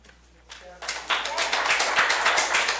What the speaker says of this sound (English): we will not have clapping after each speaker